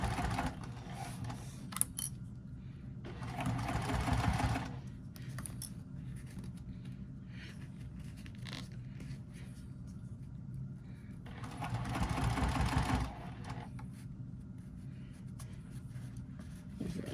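A sewing machine stitches vinyl for a small triangular pouch in two short, quiet runs of rapid whirring, separated by a long lull of faint handling noise.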